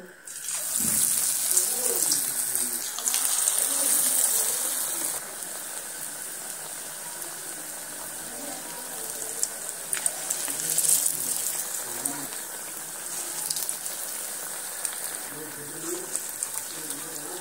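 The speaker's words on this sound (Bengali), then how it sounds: "পাকোড়াগুলো ভাজার জন্য আগে থেকে একটা কড়া বসিয়ে বেশ কিছুটা পরিমাণে সরিষার তেল দিয়েছি। তেল গরম হয়ে গেছে।" Cabbage and red lentil pakoras frying in hot mustard oil in a wok make a steady, hissing sizzle with brighter bursts at the start and midway before settling into a softer, even crackle.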